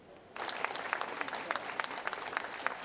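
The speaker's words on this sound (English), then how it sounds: "Another spontaneous round of applause broke out" Applause at a funeral starts abruptly and continues steadily, a dense patter of many hands clapping, moderately loud with some sharper individual claps standing out.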